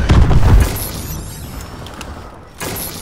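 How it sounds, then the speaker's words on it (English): Friendly missile strikes landing in a first-person shooter video game: a heavy booming blast at the start, trailing rumble and debris, then another impact near the end. "Friendly missile strikes incoming"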